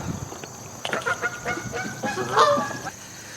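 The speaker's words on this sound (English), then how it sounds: "There's geese everywhere." Geese honk repeatedly in a park in Alliance, Ohio, with several loud, close, overlapping calls against outdoor background noise.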